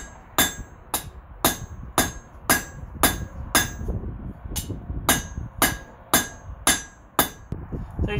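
A hammer strikes heated steel on an anvil, drawing it out to a taper. About fifteen sharp, ringing blows land close by in a steady rhythm, roughly two per second.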